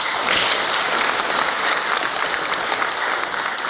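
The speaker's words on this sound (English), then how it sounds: "Can we give her a round of applause?" A crowd at a real estate practitioners' oath-taking ceremony in Cebu gives a PRC chairperson a loud, steady round of dense applause lasting several seconds.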